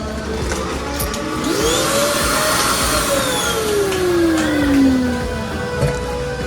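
A vacuum packing machine runs with a loud, steady motor whine that rises and falls in pitch, close by amid background room noise.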